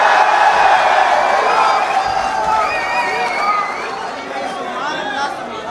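A crowd at a 2019 university mushaira poetry recital roars with whoops, cheers and steady applause, a dense, loud wash of audience noise that fades slightly toward the end.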